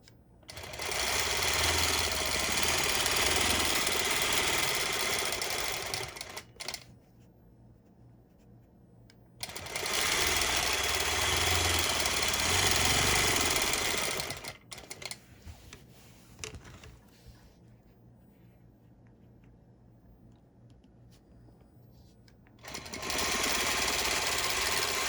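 Longarm quilting machine stitching a pebble design, running in steady rapid bursts of several seconds each with pauses between, fairly close and even in tone.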